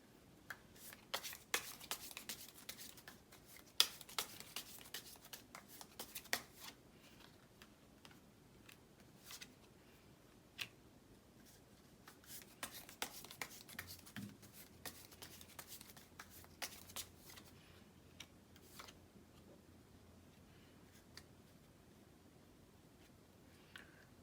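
Tarot cards are shuffled close up in a quiet room, a soft sequence of riffling flicks and papery slides coming in bursts with short pauses between them, no talking.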